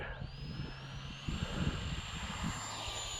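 An Eflite UMX F-86 Sabre RC jet takes off, its faint electric whine rising steadily in pitch and then holding high over a soft outdoor background.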